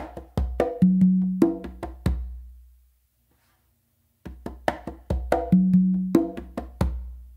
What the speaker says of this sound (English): you're going to do a bass with your dominant hand on the conga